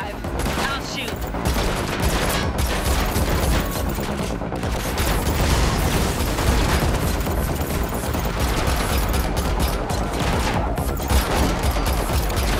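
Sustained rapid gunfire from a car chase in The Matrix Awakens on PS5, dense bursts of automatic fire layered with engine roar and impacts, loud and continuous with faint voices mixed in.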